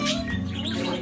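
A pet bird in a back room mimics a person saying good morning, a brief gargly, chirpy imitation of speech heard faintly at a distance.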